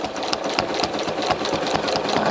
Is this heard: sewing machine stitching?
yes